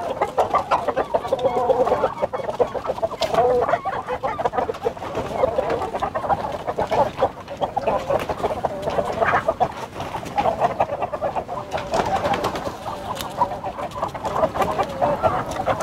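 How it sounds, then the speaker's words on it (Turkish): Australorp chickens cluck continuously as they leave their coop, a dense, close chorus of overlapping clucks and squawks with no speech. "astrolorp tavuklarımızı dışarıya çıkaracağız. Kümesimizi bir açalım. Tavukların çıkışına şahit olun."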